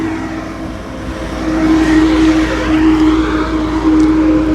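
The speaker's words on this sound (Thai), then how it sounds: "บาบูจะขับรถขึ้นเขาเด้อ" A car driving up a mountain road in the Thai countryside, with a steady close engine drone and hum that grows slightly louder as it climbs.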